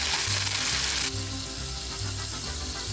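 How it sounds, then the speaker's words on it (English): Shredded beef sizzles steadily on a hot griddle, a loud broadband frying hiss that drops to a quieter, even crackle partway through, with a low rhythmic hum beneath and no talking. "Let's set up our griddle, and on one side we're going to take our shredded beef, heat that up"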